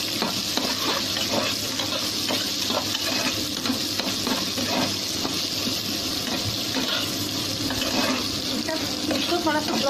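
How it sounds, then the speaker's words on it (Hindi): Onions go into hot oil for a restaurant-style soya biryani, giving a steady, loud sizzle of frying with stirring and scraping throughout, near and continuous. "क्रैकर हो गया, अब प्याज डाल देते हैं।"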